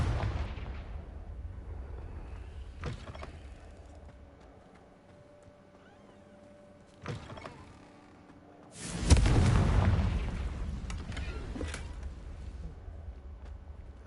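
A Confringo fire spell in Hogwarts Legacy: a few sharp in-game cracks at first, then a loud, close booming blast with a long rumbling tail fading over several seconds.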